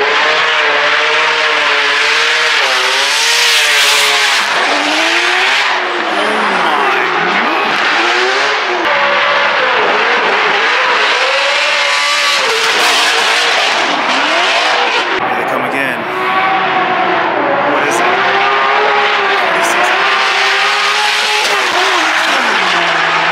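Formula Drift race car engines rev loudly and repeatedly while warming up tires, rising and falling in pitch, with tires squealing and skidding nearby.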